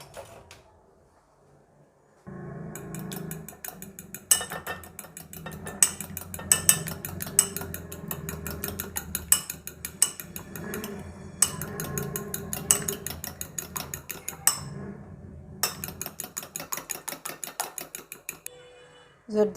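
Egg yolks beaten with a spoon in a bowl for a hot milk butter cake, giving steady rapid clinks and taps of metal on the bowl rim, close and fairly loud, running continuously after a quiet start.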